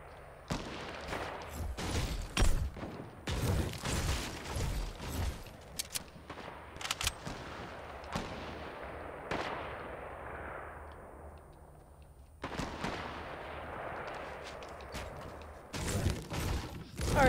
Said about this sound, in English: Ooh, somebody got the new sniper.